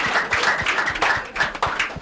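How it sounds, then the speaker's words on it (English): Audience clapping for school students on a live broadcast, a brief patter of hands with irregular taps, moderately loud and fairly close, no talking over it. "Make una clap for yourselves, my dear."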